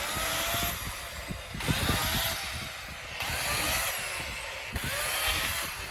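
A battery chainsaw, slower-chaining than petrol models, cuts through small branches in bursts, its high whine rising and falling loudly in close, repeated passes.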